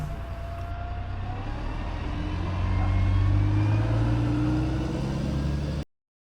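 A tour bus engine idles outside John Lennon's childhood home, Mendips, in Woolton, a steady low rumble that swells slightly midway before cutting off abruptly.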